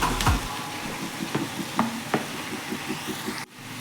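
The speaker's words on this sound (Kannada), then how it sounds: "ಟೊಮೊಟೊ ಮೆತ್ತಗಾಗೋ ತನಕ ಫ್ರೈ ಮಾಡ್ಕೋಬೇಕು" Chopped tomatoes and vegetables fry in a pan for a spicy green-pea upma, giving a steady soft sizzle with a few light stirring clicks and scrapes, close and moderately loud, ending abruptly.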